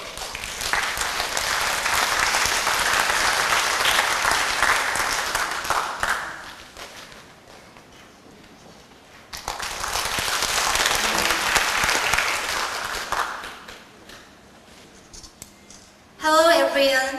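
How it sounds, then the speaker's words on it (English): A workshop audience at the 2012 KOSETA summer workshop gives a presenter two long bursts of loud, dense applause, each trailing off, with a quiet gap between them and a brief different sound at the very end. "Please give her a big round of applause."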